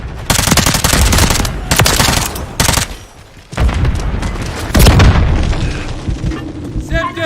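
Video game firefight with a stun grenade blast and bursts of rapid gunfire, loud booms and rattling volleys broken by a short lull, then more shooting close by.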